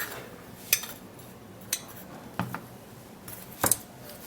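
A tablespoon mixes a hand-remedy ingredient in a small dish, producing a few sparse, sharp metallic clinks and scrapes at irregular intervals against quiet background, close by, with no speech.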